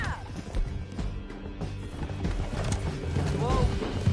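Horse hooves clip-clopping at a gallop in Red Dead Redemption 2 as riders flee down a canyon, a steady rhythmic pounding under shouted voices and other game sounds.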